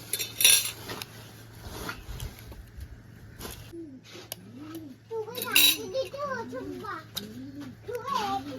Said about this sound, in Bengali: তো 2টো ডিম আমি ফাটিয়ে নিচ্ছি।